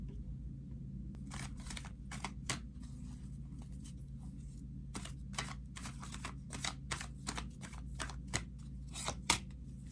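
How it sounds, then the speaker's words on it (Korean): Oracle cards being shuffled and drawn for a tarot reading, heard as repeated close, crisp card flicks and riffles in irregular bursts over a low steady hum. "그다음에 오라클 카드 한번 뽑아볼게요"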